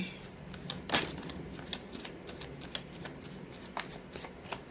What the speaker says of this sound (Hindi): इसीलिए मैं सफलिंग कर रही हूँ ज़्यादा